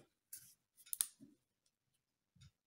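Scissors cut tape while a birdhouse is assembled, giving a few crisp, quiet snips and clicks separated by silence.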